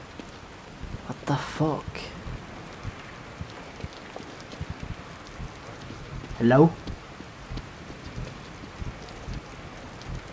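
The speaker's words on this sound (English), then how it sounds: "Rain is gonna wash away any evidence." Steady rain falls in the horror video game The Evil Within, a soft continuous wash behind two short bursts of someone speaking.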